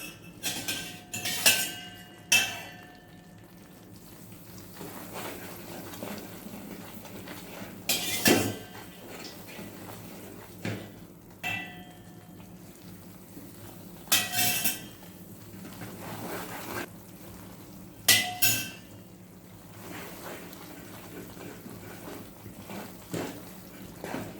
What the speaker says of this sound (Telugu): సో హ్యాండ్ నొప్పి పుడుతుంది అని అలా ఆపొద్దు, తిప్పుతూనే ఉండాలి.